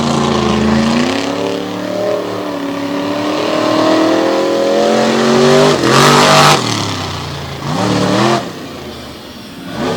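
A monster truck engine at Lake Erie Speedway in 2021, with the throttle opened hard: loud, close revving that climbs and surges through repeated rising roars, then sharp bursts near the end.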